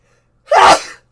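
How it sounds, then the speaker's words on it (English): One loud, close sneeze bursts suddenly after a near-silent lead-in, a sharp explosive blast that fades quickly. "I have to sneeze."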